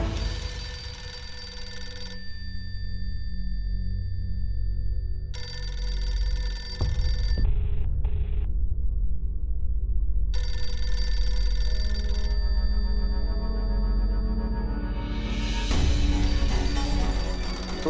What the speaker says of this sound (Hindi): हाँ, कब से फोन कर रही है वो? उठाना।